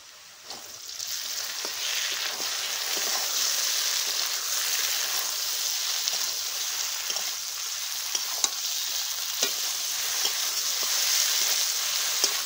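Cumin and mustard pastes sizzle and fry steadily in a hot pan, a continuous crackling hiss with occasional stirring scrapes and pops, close and alone without talk.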